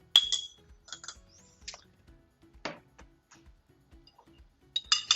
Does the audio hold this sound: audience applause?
no